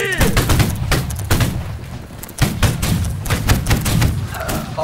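Musket volleys crack out in a Holdfast: Nations At War line battle, loud, close shots and ragged fusillades repeating in quick succession over a rumbling backdrop, with faint voices mixed in.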